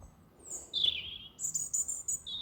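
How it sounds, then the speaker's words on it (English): Bright, high-pitched bird chirps and short trills ring out in quick bursts over a quiet background in late-summer woods. "sounds of the birds in the trees in the woods"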